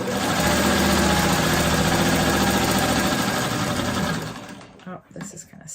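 A sewing machine stitches fabric in a loud, steady, close mechanical whir for about four seconds, then stops abruptly, leaving only a few faint handling sounds.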